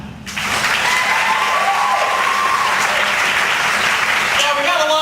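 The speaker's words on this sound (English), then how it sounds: "Please clap." After a brief quiet start, a comedy club audience breaks into loud, sustained applause at a stand-up show, with scattered voices and cheers rising through the clapping.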